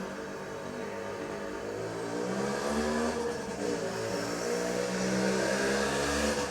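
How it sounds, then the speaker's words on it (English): A motorbike engine runs outside, heard through an open window as a steady rumbling drone that rises in revs and grows louder toward the end, with no talking. "We've now got a bike started up outside."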